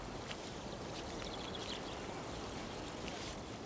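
Hot sulphurous spring water at Rotorua's thermal springs, 52 °C and full of sulphur deposits, bubbling and foaming in a steady, dense, continuous fizzing wash heard up close without voices.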